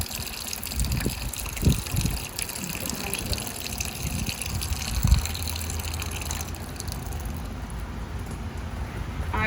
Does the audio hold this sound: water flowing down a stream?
yes